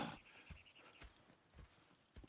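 Horse hooves clip-clop in a steady walking rhythm in Red Dead Redemption 2, faint and close, with light ambient background.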